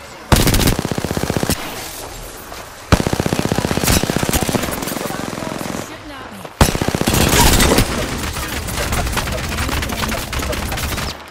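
Automatic gunfire from the video game Apex Legends rattles in three long, loud bursts of rapid shots separated by brief pauses, close and dominant, with a player's voice occasionally speaking over it.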